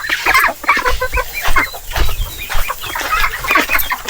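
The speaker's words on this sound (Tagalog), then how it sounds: "Mga gutom na yung ating alagang manok." Several free-range chickens cluck busily and close by, overlapping short calls in an uneven, continuous chatter with no talking.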